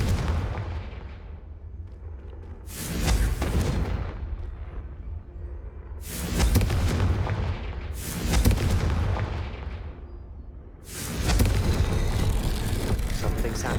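Confringo blasting spells explode in the Hogwarts Legacy video game, four heavy booming blasts a few seconds apart, each with a loud rumbling onset and a long decaying roar, close and loud.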